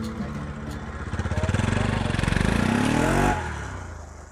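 A motorcycle engine runs close by on a hill road in Nagaland, a steady throbbing hum whose pitch rises and then drops away near the end.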